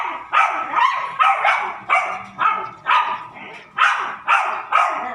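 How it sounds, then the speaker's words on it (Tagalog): Several tethered dogs barking loudly and close in a steady rhythm, about two barks per second, with some whimpering yips mixed in and no clear talking. "Naiingay itong mga aso ko."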